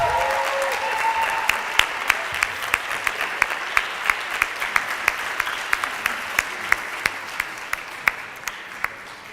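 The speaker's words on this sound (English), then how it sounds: "to get the round of applause that they definitely deserve" Sustained audience applause fills the hall at the final of an international debate tournament, a dense, steady clatter of many hands with a few sharper, louder claps standing out near the microphone throughout.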